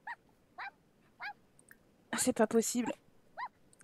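A dog in The Sims 4 gives several short barks and whimpers in a quiet room, each yelp brief and clear, with a burst of French speech in the middle.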